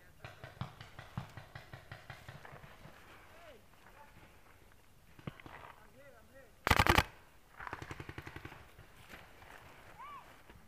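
A field shooting game with a referee on site: rapid strings of shots pop in quick bursts, one sharp loud blast stands out, and more volleys follow, with players' voices heard between the shots.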